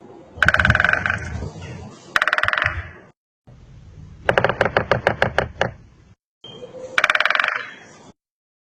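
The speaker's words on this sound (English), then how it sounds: "Woodpecker." A woodpecker drums on wood in several separate bursts, each a rapid run of sharp knocks, with one burst showing about ten distinct strikes, loud and close with short pauses between.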